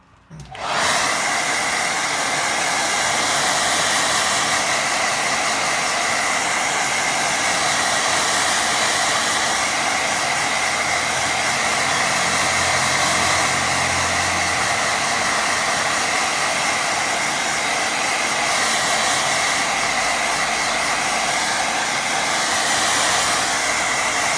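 A hair dryer runs steadily and loudly, close by, blowing on a wet watercolour painting of a country path, a continuous airy whoosh with a faint motor drone that holds without pause from start to finish.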